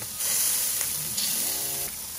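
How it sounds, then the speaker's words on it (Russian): Chicken hearts sizzle steadily on a grill, a close, continuous frying hiss with faint crackles and no talking. "И жарим последние полторы минуты."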